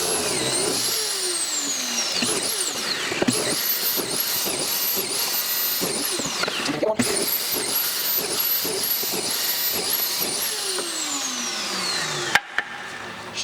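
A cordless drill or driver whines in repeated short bursts as screws are driven into cabinet toe kicks, several rising and falling spins close by with brief pauses between them and no talking.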